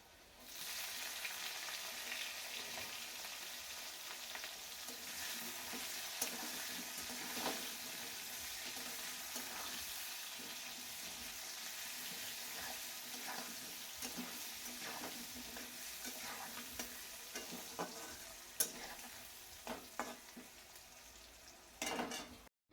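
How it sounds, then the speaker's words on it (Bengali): Potatoes fry in hot oil with cumin, dried chilli and bay leaf, giving a continuous dense sizzle with intermittent stirring scrapes and light utensil clinks, fairly close and steady throughout. "আলুগুলোকে দিয়ে খুব ভালো করে লাল লাল করে আলুগুলোকে ভেজে নেব"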